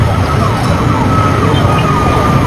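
A fire truck siren wails, rising and falling steadily over loud road noise at a fire in Pasig City, Philippines, sounding fairly close and continuous throughout.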